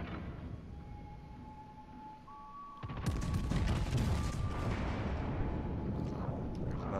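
Battleship main guns firing in World of Warships: Legends, a sudden loud broadside blast that breaks in after near-silence and rolls on as a sustained, rumbling boom.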